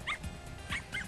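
A puppy in an anime gives short yips, a few quick high barks spread across a brief moment, close and clear with no talking over them.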